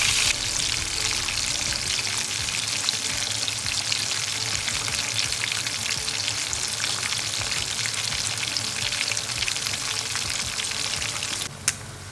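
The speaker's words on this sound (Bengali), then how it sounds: "মাছটাকে এইভাবে লো ফ্লেমে কিন্তু ফ্রাই করলে খুব ভালোভাবে ভিতর আর বাইরে দুটোই ভালোভাবে ভাজা হবে।" Fish fries in a pan over a low flame, giving a steady, close hiss and crackle of oil that holds constant throughout with no voices.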